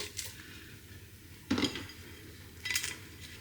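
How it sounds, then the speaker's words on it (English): Utensils clink and scrape against dishes as grilled salmon and asparagus are served from a Ninja Speedi. Three short, bright metallic taps stand out over a quiet kitchen background. "So, should we dish it up?"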